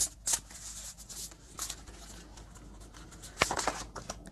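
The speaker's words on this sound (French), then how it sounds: "On va reprendre d'autres cartes d'oracle." Oracle cards are shuffled during a tarot-style reading. A few crisp, close riffles and slaps stand out from a quiet background, with short gaps between them.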